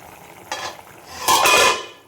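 Metal cookware clatters as water goes into a pot of potato and eggplant curry and a lid is set on top, giving a light clink followed by a louder, ringing clank and a short rattle.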